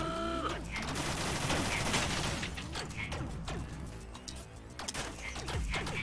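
Gunfire in the Rainbow Six Siege video game, rapid bursts of shots with metallic weapon mechanism clicks, loud and close, dense at first then thinning into scattered single shots.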